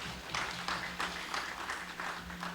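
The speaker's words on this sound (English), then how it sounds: "Let us give them a round of applause for that." Light applause from an audience at an emergency management exercise evaluation, a modest patter of clapping in a few uneven swells, fairly faint and steady over a low hum.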